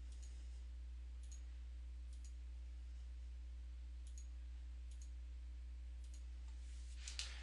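Faint computer mouse clicks while working in CAD software, a handful of single soft clicks spaced a second or so apart over a low steady hum, with no talk.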